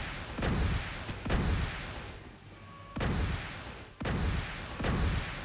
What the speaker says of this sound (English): Missile turrets activating